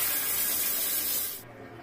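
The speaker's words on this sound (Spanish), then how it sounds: "Ducha, agua fría y caliente." Shower in a hotel bathroom in Bayamo, Cuba, running with hot and cold water, a steady close hiss of spray that cuts off sharply near the end.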